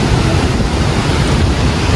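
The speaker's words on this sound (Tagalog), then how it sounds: "Nagbiglang lakas yung hangin." Strong typhoon wind roars steadily and loud against the microphone, a dense continuous rush with low buffeting, during a storm that tore off roof sheeting.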